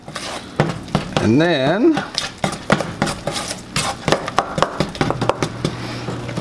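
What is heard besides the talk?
mixing blueberry wheat ale bread dough in a bowl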